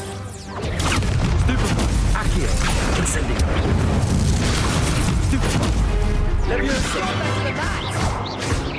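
Incendio fire spell blasts in the Hogwarts Legacy video game come in loud, rapid succession with booming crashes and thuds through a busy battle, while in-game voices shout spells over the din.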